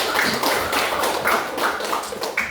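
A classroom of students clapping for a classmate, a dense, steady patter of many hands at close range lasting the whole moment, with no talking over it.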